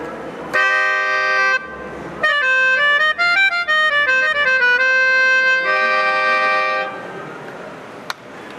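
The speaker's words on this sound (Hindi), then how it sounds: "तो ये थी मेलोडिका।" Melodica played at close range, with loud, reedy sustained notes and a short run of changing pitches that taper off near the end.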